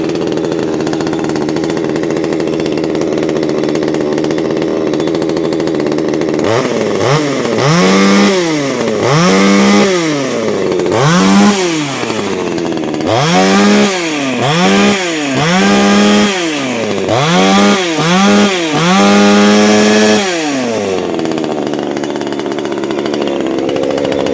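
A Vitals 25-11 chainsaw starts with several sharp pull-start bursts that rise and fall, then runs loud and close with repeated throttle revs before dropping away, with no voices.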